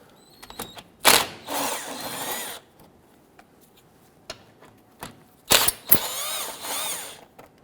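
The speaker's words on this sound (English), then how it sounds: "Remove the two 10mm bolts in the back." A hand ratchet clicks in short bursts while removing the two 10mm bolts from the underbody shield of a 2011-2023 Dodge Charger 3.6L V6, loud and close, with quiet gaps between runs.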